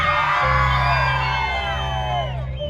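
A large crowd lets go all at once with loud whoops, yells and cheering, a dense, sustained roar that fades slightly toward the end.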